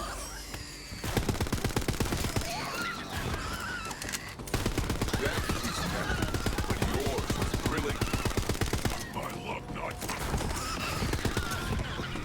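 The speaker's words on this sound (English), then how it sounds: "Just a pistol, but it shoots 6 bullets" Rapid bursts of pistol gunfire from a Borderlands video game pistol that fires six bullets per shot, with dense repeated cracks running nearly continuously and loud over game music, with a voice talking intermittently.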